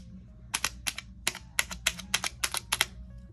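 A small box cutter slicing a slit into the cardboard box of a Christian Dior perfumed dusting powder, heard as a quick series of sharp, close scratchy cuts and clicks in an irregular rhythm, with no voices.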